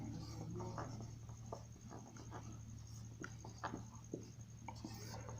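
Chalk or marker writing on a board during a class 10 maths lesson on triangles, with quiet scratchy strokes and taps in an irregular rhythm over a low room hum.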